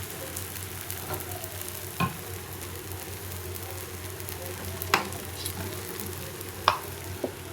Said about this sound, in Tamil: தோசை ஊற்றாச்சு.